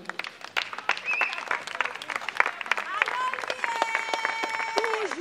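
A wedding audience claps and applauds for the couple, with dense clapping building and sustaining alongside voices and music in the hall.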